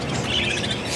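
Pet birds being fed chirp in a dense, steady chorus, close and fairly loud for a brief moment.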